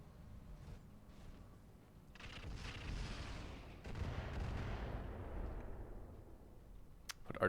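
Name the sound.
artillery fire in video game Battletech Roguetech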